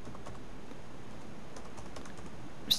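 Quick, light keystrokes tap out a search query on a computer keyboard, close and steady at a soft level, ending with a sharper click.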